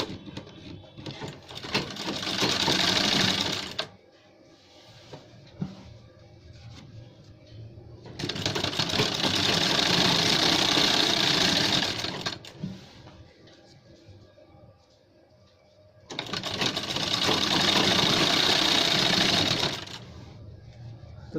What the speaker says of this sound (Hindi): मार्जिन के बराबर जितना हमने छोड़ रखा है उतना ही सिलाई लगा रहे हैं दोस्तों हम इसमें।